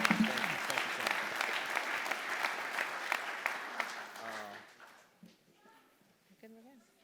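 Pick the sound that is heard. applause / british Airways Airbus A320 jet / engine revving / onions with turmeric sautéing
applause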